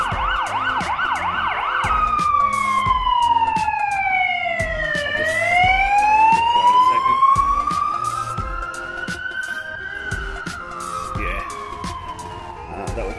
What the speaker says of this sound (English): Probably an ambulance, that happens a lot.